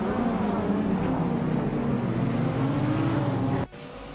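Racing cars in a video game race drone with a steady, loud engine roar that ends in an abrupt cutoff near the close.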